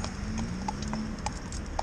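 Hooves of a traditional cob horse clip-clop on a road, a steady, evenly paced series of hard knocks under a low hum of passing traffic.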